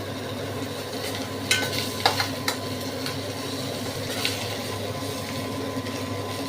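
Fish oil frying in a pan for a Bengali fish-oil chorchori, a steady low sizzle with a few sharp utensil clicks and scrapes near the middle, close and moderately loud, with no talking.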